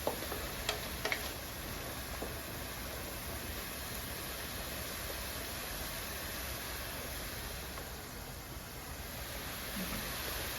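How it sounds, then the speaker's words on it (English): Onions fry in a pan, a steady even sizzle that holds at moderate level throughout with a few faint clicks near the start. "I just need the onions to fry"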